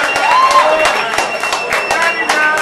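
A crowd at an acoustic open mic finals applauds the finalists, with brisk, dense clapping throughout and a few sharp louder claps standing out, plus faint whistles and murmurs in the room.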